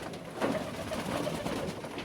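Soft cooing of a pigeon fed on a frosty winter evening at minus ten, a faint, brief murmuring call heard alone at close range.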